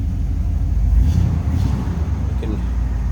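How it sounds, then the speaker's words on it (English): A 1973 Chevrolet Nova sedan idles while warming up, giving a low, steady engine rumble close by, with a voice heard briefly over it. "it seems to run a little bit better once it's warmed up"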